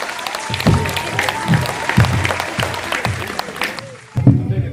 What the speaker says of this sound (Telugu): అందరూ కూడా క్లాప్స్తో బిగ్ అప్లాడ్